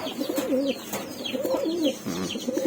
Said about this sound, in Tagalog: Ganda ng kondisyon ng kalapati natin na to.